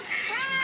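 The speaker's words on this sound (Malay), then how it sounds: "Mengiau." Pet cat meows once in the morning, a single drawn-out, rising and falling meow, close and fairly loud with no talking over it.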